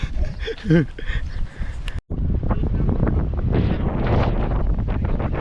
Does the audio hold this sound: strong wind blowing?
yes